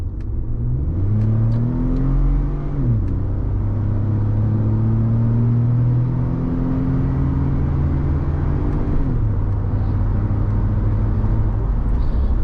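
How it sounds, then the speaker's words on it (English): A 2014 Ford F-150 Platinum pickup with a turbo engine accelerating from inside the cab, a loud steady drone rising in pitch through several gear shifts, with no talking. "All right, we will give it some gas."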